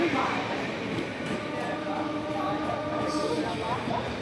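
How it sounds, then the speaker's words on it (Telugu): SMVT Bengaluru–Howrah express train running through a station without stopping, a steady sustained rumble of wheels and carriages with faint clatter, heard up close with some voices in the background. "ఆగకుండానే పాస్ అయిపోతుంది ట్రైన్ ఎస్ఎంబిటి హౌరా"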